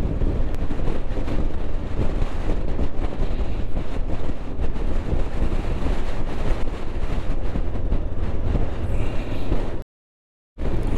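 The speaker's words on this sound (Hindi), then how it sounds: "बहुत भयंकर हवा चल रही है" Fierce wind roars on a high mountain road in Spiti between Chango and Nako, a loud, unbroken buffeting blast hitting the microphone for about ten seconds before a brief silent gap.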